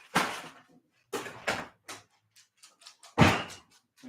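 Someone is at the door, producing several sharp knocks or thuds in an irregular pattern, a few louder impacts spaced with quieter taps between them, close and alone.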